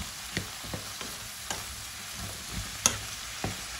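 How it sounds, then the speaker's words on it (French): A spoon stirs cauliflower curry in a pan over a soft, steady sizzle, with about eight scraping strokes at an irregular pace, close and quiet. "Voilà, voilà, je mélange bien l'ensemble"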